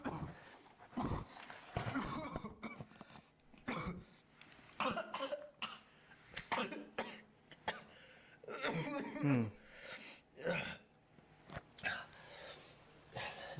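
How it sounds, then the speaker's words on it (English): A person gives a series of deliberate fake coughs, close and repeated in irregular bursts with short pauses, mixed with throat clearing and a chuckle. "His cough's not bad, but it needs some work."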